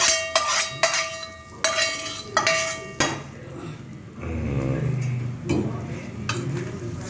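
Cucumber chutney (dosakaya roti pachadi) is stirred and mixed in a vessel, with several sharp clinks of a spoon against the pot in the first seconds. A softer, continuous scraping and mixing follows, close and fairly loud, with no talking.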